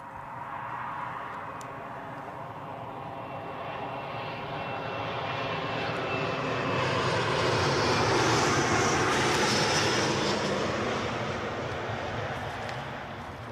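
An aircraft passes at Newcastle airport, its engine roar swelling gradually to a broad peak and then easing off, a steady rumbling rush heard from some distance.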